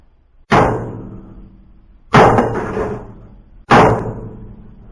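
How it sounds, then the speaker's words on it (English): Three sharp metallic strikes of a hammer on a vise, simulating engine knock to test a knock sensor, evenly spaced about a second and a half apart, each ringing briefly before fading. "and then hit the vise with a hammer, trying to simulate a knock."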